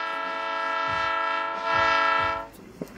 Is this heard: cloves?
no